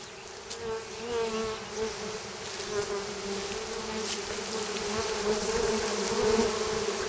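A honeybee swarm settles into a camellia bush outdoors, a dense, continuous buzzing drone close by that swells slightly toward the end.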